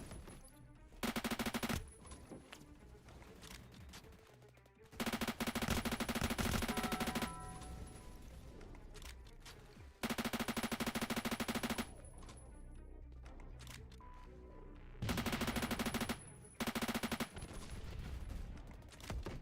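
Automatic gunfire in the Roblox shooter Phantom Forces, rattling out in several loud, tightly packed bursts of a second or two each, separated by quieter stretches of ambient game sound.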